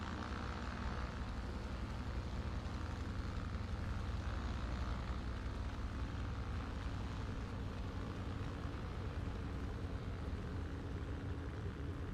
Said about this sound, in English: There's a plane behind me.